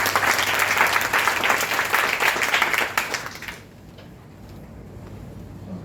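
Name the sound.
audience applause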